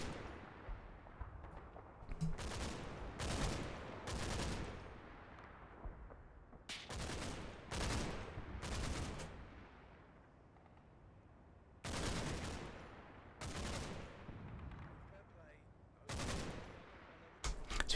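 Suppressive gunfire in Combat Mission: Battle for Normandy, a WWII Normandy wargame: repeated bursts of rifle and machine-gun fire, some near and some distant, over a steady rumbling battlefield background.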